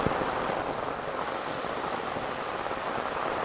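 Heavy rain pours over a village, a steady, even roar of countless drops striking the ground and leaves, close and unbroken with no voices.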